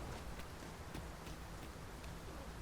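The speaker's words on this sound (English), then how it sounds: "It is raining most heavily." Heavy rain in the video game Dragon's Dogma 2, a steady dense hiss of downpour with a few faint drop taps, even and unbroken throughout.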